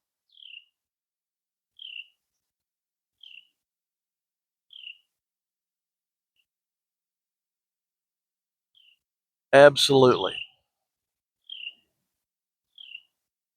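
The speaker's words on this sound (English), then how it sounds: "There is a bird sitting just off to my right that is driving me nuts." A bird calls near a forest edge, sharp brief chirps repeating at steady intervals of about a second and a half, with a short burst of speech breaking in midway.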